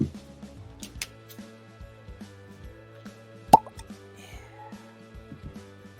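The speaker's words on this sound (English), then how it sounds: "Cork pop." A cork pulled from a bottle of Russell's Reserve 13 Year bourbon gives one sharp, close pop midway through, with quiet background music playing throughout.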